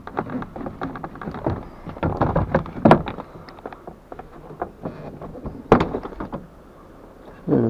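A Hyundai Accent Era car door panel is worked loose, giving close plastic knocks, rattles and thumps in an uneven run with a couple of sharper cracks.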